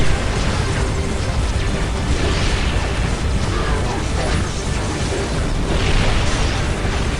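Rocket launcher explosions from a Dawn of War Soulstorm battle with Crucible mod Terminators, a dense, continuous roar of blasts, booms and mechanical clatter at steady loudness for the whole stretch, with no voice over it.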